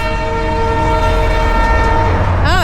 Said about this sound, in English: Oh, that is a train that is making noise over there.